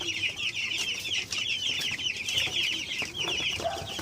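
Cobb 500 broiler chicks on day twelve peeping in a crowded chorus, dense high chirps overlapping continuously and close by, with a few clucking notes mixed in and no speech.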